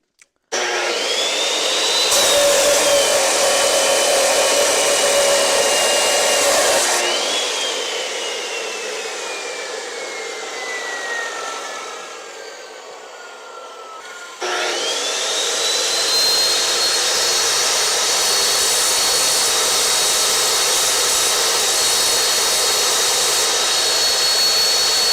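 A power tool cuts about 1.5 to 2 inches off a Cougar suspension part, a loud, steady high-pitched whine that bogs down and drops in pitch mid-cut, then spins back up to a sustained scream without talk.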